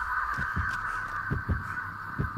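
Crows caw in the Dead by Daylight video game under a steady heartbeat-like throbbing pulse, several muffled caws and low beats repeating in a rhythmic pattern.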